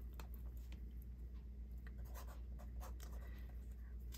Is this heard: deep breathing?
no